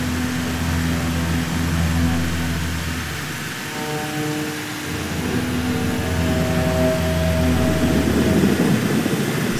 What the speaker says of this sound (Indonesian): Cuman di sini sudah hujan guys dan waktu sepertinya sudah malam.